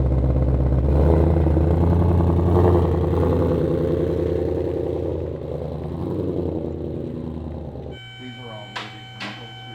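A 2020 Ford GT500 idles and rumbles as it is pulled into a garage bay, a steady loud low engine drone that drops away near the end, followed by brief clinking and a faint high whine.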